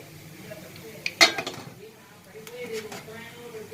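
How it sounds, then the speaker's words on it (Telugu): A lid set back onto an idli steaming pot, one sharp metallic clank with a short rattle, followed by quieter kitchen clinks and soft background sound. "ఇంకా చల్లారిపోతుంది కాబట్టి నేను మళ్ళీ మూత పెట్టేస్తాను."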